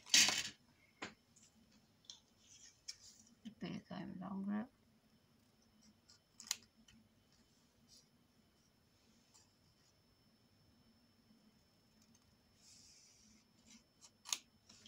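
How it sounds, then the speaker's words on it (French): Small scissors snip a few times through double-sided tape, sharp and close, amid quiet rustling and handling noises, with a person talking briefly in between. "je prends le petit ciseau."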